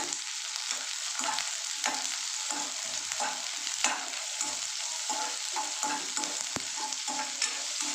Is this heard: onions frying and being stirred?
yes